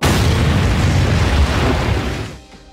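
A bomb explodes in an anime battle scene, a loud, dense, rumbling blast that fills the opening seconds and then dies away into a short decaying tail.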